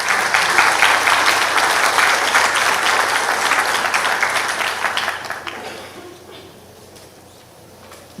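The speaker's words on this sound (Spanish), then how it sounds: "a quien pedimos un aplauso también" Audience at a forum on seismic risk in buildings applauds a panelist, with full, dense clapping that holds steady for about five seconds and then fades to a quiet room.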